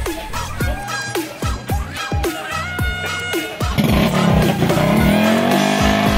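Several trail bike engines rev hard in repeated bursts at a trail bike money race, then settle into a loud continuous roar as they accelerate together; close, dense, with faint voices underneath.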